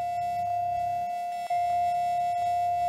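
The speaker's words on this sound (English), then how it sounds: "one is the background hum generated by the normal operation of the InforMatrix" Computer machine humming in normal operation, a steady electrical tone with a strong single pitch and faint tonal overtones over a soft, fluttering low rumble, continuous and moderately quiet, with one brief dip near the middle.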